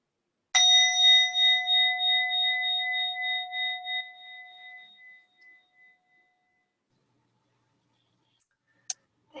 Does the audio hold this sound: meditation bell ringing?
yes